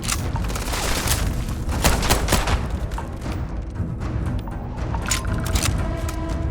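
Gunfire in a Starfield firefight, rapid bursts of shots and thuds overlapping in a loud, sustained barrage with scattered louder cracks.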